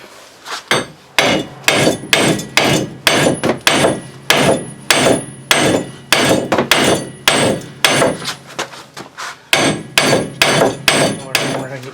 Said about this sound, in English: Let me go straighten the wheel up and hammer on it from this side a little bit.